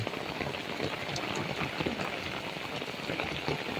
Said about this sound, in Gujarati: મોટા સાટાનો વરસાદ છે